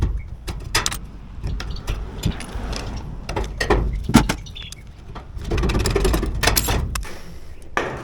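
Tin snips cutting metal gutter for a mitred corner on an older house, producing a series of sharp, close, irregular clicks and crunches, with brief pauses between the cuts.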